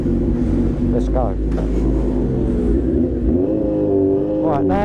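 A loud custom Honda Fireblade motorcycle engine rumbles and revs up close, with a deep steady throb and rising revs near the end, while someone talks over it.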